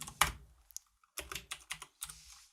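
Typing on a computer keyboard while writing C# code, a few close clicky keystrokes in short bursts separated by brief pauses, with no talking.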